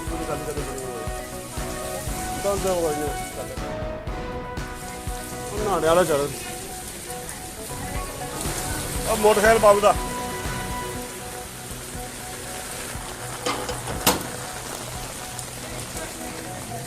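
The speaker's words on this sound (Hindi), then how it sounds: "जम्मू कश्मीर में लगातार बारिश" Heavy downpour on the streets of Doda district, Jammu and Kashmir, a steady dense patter of rain with intermittent louder surges and splashes, while a person talks in the foreground.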